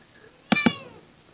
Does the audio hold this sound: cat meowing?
yes